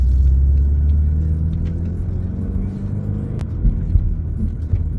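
A car accelerates gently through a right turn at an intersection in Lower Sackville, Nova Scotia, its engine a low, steady rumble that swells slightly toward the end, heard from inside the cabin with no talking.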